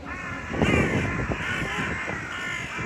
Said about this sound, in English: Some of the crows of Eowyn there, cackling in glee.